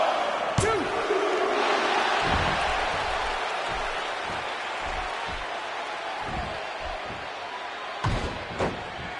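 Arena crowd noise from the WWE 2K16 wrestling game, a steady roar of cheering fans in a Detroit arena, with thuds of ring impacts and slams scattered throughout, briefly louder near the end.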